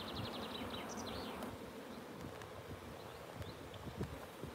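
Honey bees droning steadily around an open beehive during a strong nectar flow, a dense, continuous close buzz with a few louder individual passes, heard alone without voices.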